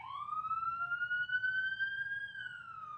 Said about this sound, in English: I don't know if this is a fire truck or an ambulance